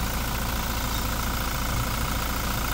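A 2019 Toyota Hilux G 4x4 with a 2GD diesel engine idles steadily, a smooth continuous rumble heard close up with the hood open, even and unbroken throughout.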